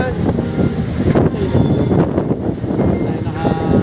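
Strong gusting wind and rain buffeting a food delivery rider on a motorbike, a loud roaring rush with someone talking over it.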